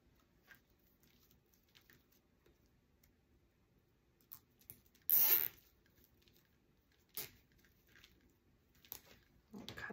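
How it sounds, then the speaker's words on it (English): Plastic zip ties are pulled tight on a handmade sunflower wreath, giving a single loud ratcheting zip in the middle with a few soft clicks and rustles around it in an otherwise quiet room. "These zip ties, give you a look there."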